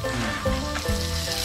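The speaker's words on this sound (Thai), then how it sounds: "นี่ไงหมูกระทะ" Pork sizzles on a Thai tabletop grill (mu kratha), a steady, close frying hiss with soft crackles and a faint stirring clink.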